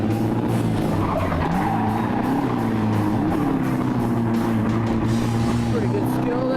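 A drift car's engine revs hard at high RPM with a clutch kick, its note rising and falling continuously alongside tire noise, with people talking over it.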